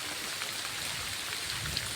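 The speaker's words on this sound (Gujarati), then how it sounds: "ને વરસાદ ભૂકા કાઢે છે" Heavy monsoon rain pours down near a village farm, a dense, loud, unbroken hiss of drops striking surfaces, steady from start to finish with no talking.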